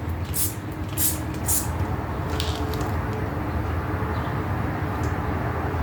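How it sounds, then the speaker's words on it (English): Three quick hissing sprays of soapy water from a spray bottle onto a dry-rotted, cracked garden tractor tire burst close by over a steady background hum, followed by a couple of fainter spritzes. "So we'll just spray it down and look for bubbles."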